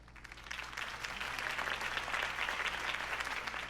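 Steady crowd applause in the video game Batman: The Telltale Series, a dense wash of many hands clapping at a constant, moderately loud level with a faint low hum beneath.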